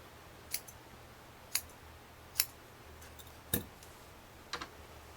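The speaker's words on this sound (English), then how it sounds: "Get those scissors. I need to trim this off just a little shorter here." Scissors trim wool hair on a needle-felted doll, giving six sharp, separate snips about a second apart, close and crisp against a quiet background.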